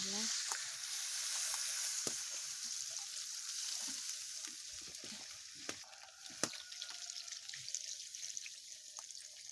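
Chicken curry simmering in a pan right after water is poured in, giving a steady broad sizzle with scattered sharp crackles and pops throughout, fairly close and without talk.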